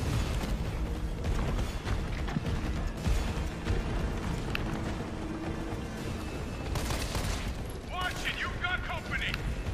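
Gunfire and mechanical clatter from the video game Resident Evil 3 blend into a rumbling, busy mix of shots and booms, with voices talking over it at times.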